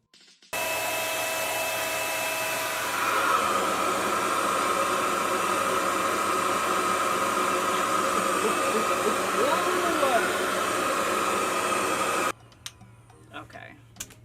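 A RevAir reverse hair dryer runs on natural hair, a loud, steady whooshing hum that holds for about twelve seconds and then cuts off, leaving a quiet room with faint rustles.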